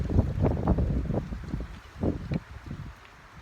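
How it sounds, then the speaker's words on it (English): Wind gusts outdoors in a garden, buffeting the microphone in low, uneven rumbling bursts that come and go over a few seconds before easing off. "It's windy as heck though."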